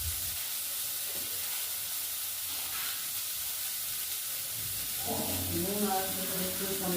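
Broccoli fries in oil in a pan with a continuous close sizzle and hiss. A voice talks over it toward the end.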